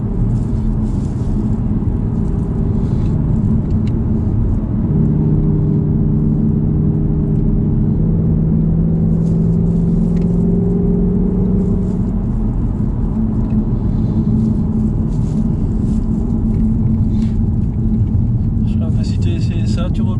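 Ford Mustang with a 2.3-litre engine, fitted with ventilated brake discs, driven at full throttle on the road through third and fourth gear. A loud, sustained engine drone rises in pitch, then settles into a steady cabin rumble.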